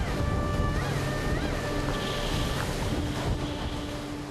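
Big ocean waves break and wash against a 29-ton fishing boat pushing through rough seas, a continuous loud roar of surf and wind with engine-like tonal hums running steadily underneath.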